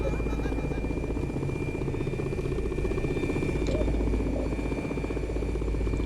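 Steady rotor thump and engine whine of a helicopter in the Prepar3D v4 flight simulator game, flying over 29 Palms scenery, a constant moderate drone with no talk over it.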